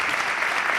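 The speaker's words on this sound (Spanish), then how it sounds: "un aplauso para ella" A live audience applauds Cristina Medina at the close of an interview event, a dense, steady wash of clapping throughout.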